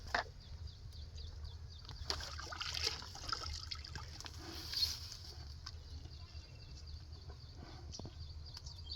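A buffalo drinks water from a bucket in a hot village yard, with soft steady trickling and slurping water sounds throughout, a low rumble underneath and a few faint bird chirps.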